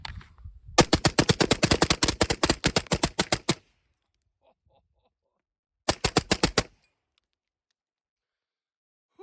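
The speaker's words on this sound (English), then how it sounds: "So we'll see if I can handle a whole mag dump with it." Suppressed AR rifle with a Fostech Echo binary trigger and Polonium K suppressor firing 55-grain rounds at a pumpkin: a long, rapid, evenly paced string of sharp, close shots, silence, then a second short burst.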